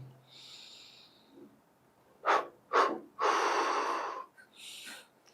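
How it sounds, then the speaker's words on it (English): Deep breathing exercise led by an instructor: two sharp nasal inhalations followed by a long forceful exhale blowing out breath, close and clear, then a softer breath at the end. "So I'll teach one breathing exercise to blow out all the stress."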